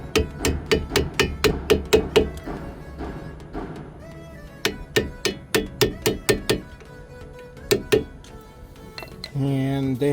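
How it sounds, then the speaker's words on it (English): Brake caliper pins on the front brakes of a Porsche Macan 95B are struck with a hammer and chisel, giving close, sharp metallic blows in quick runs with short pauses, followed by a brief scraping clatter. "you need to hit these little pins with a chisel or a screwdriver in order to"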